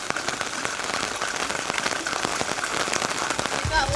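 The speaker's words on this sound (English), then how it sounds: "The rain actually lightened up." Rain patters densely on a leaking umbrella and the ground nearby in Tsuwano, Japan, a busy, continuous drumming of drops close to the listener.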